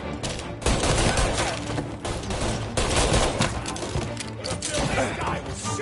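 Gunshots in the video game Mafia: loud, close bursts of rapid firing that come in repeated volleys, with dialogue in between and under the shots.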